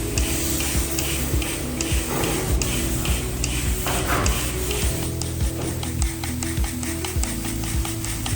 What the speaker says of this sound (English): our construction workers are hurrying to spray us with this epoxy Zinc-Rich primer